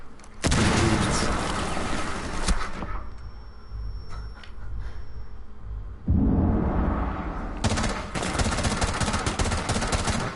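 Grenade blast and gunfire in Rainbow Six Siege, loud dense bursts of shots and impacts opening the stretch, a quieter lull with scattered pops, then another heavy burst of firing and explosive noise.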